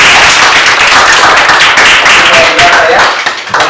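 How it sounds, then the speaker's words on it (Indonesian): Classroom applause from students during a mathematics lesson on the elimination method, a steady close burst of clapping lasting throughout and fading slightly near the end. "Oke, beri aplaus dulu."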